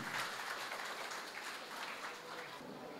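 Audience clapping at a Tamil speaking event as a speaker is introduced, a steady dense patter of many hands at moderate distance, fairly even and sustained throughout.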